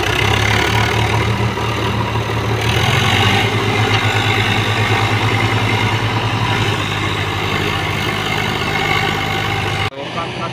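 An Eicher 551 or Sonalika DI 50 tractor engine idles loudly and close, a steady low diesel rumble with a slight shift in pitch partway through, with voices faintly beneath.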